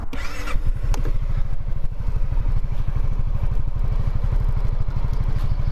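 A 2023 Honda SH350i scooter engine catches with a short rattle and settles into a steady, fast putt-putt idle close by, running evenly throughout.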